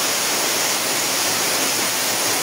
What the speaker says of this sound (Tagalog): Twin Falls dito sa Laguna.